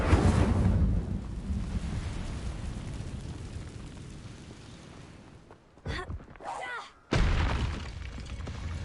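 Fiery spell effects from the Hogwarts Legacy video game: a loud, roaring, rumbling burst that fades over several seconds, cuts out briefly, then flares up again in sharp crackling blasts.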